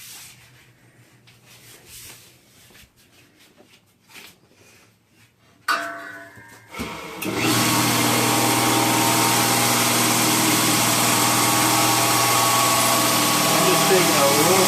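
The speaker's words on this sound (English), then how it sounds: "We'll use this grinder here." A grinder taking metal off the edge of a coin ring starts up after some quieter handling and speech, then settles into a loud, steady, high-pitched whine with a rough grinding hiss that continues to the end.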